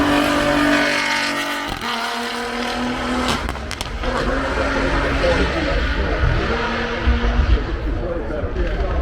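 A WRC2 rally car powers up the Goodwood hill, its engine note loud and sustained with a sharp shift or crackle near the two-second mark, while a commentator talks over it throughout.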